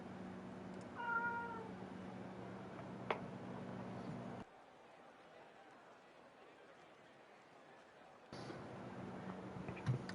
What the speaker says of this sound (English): That is my upset cat.